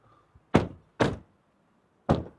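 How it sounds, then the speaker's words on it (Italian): Three solid, muffled thunks of a DR 6.0 turbo LPG automatic car's doors shutting, two in quick succession and a third after a short pause, close by in an otherwise quiet setting. "chiudiamo le porte"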